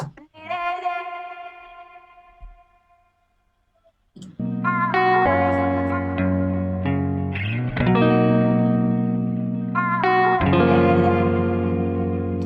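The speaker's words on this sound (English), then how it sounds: "there was this really cool vocal sample again that I liked. I'll solo that so you can hear that" An isolated, effected vocal sample from a Caribbean music beat sings sustained melodic tones with heavy processing and reverb, a brief quiet gap, then a fuller continuous passage.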